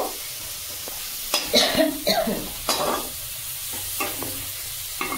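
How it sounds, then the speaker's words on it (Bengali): Chicken pieces hiss and sizzle in a hot pan with chopped tomato, stirred in a few bursts of scraping and clatter over a steady frying hiss, close and fairly loud with no talking. "তারপরে আমি 2 মিনিট নেড়ে চেড়ে নেব"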